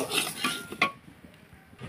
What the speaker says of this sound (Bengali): তো ডালটাকে একটু লাল করে ভেজে নেব